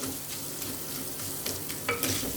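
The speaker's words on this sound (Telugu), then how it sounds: "ఉల్లిపాయ కంప్లీట్గా వేగాలి" Onions salted for a fever-soothing rasam are frying in a pan, giving a steady close sizzle with occasional spatula scrapes and a couple of sharper clinks toward the end.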